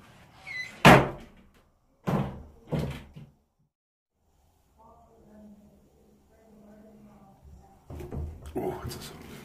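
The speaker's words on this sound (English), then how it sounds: "it's a hard door to open" A heavy, hard-to-open door at a roadside Appalachian museum in Tennessee gives a loud sharp bang, then several thuds and clunks, followed by quiet rustling and people talking.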